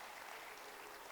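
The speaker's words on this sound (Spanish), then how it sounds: "Dale un aplauso fuerte al Señor" Church congregation applauding for the Lord during a Spanish-language sermon, a faint, steady wash of many hands clapping with no clear individual claps.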